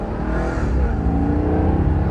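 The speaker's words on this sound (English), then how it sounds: "Little tire spin there." A 2012 Maserati Quattroporte S in sport mode roars steadily under hard acceleration, loud and close, with a continuous rough whir from the drivetrain and tires spinning briefly.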